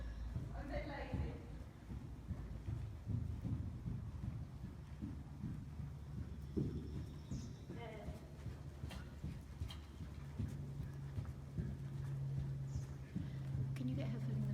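A horse trotting under a rider, with steady rhythmic hoofbeats running the whole time beneath people talking, over faint wind noise.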